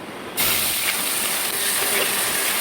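Crushed small shallots, ginger and garlic hit a hot pan and break into a loud, steady sizzling hiss that starts abruptly and holds close and strong to the end.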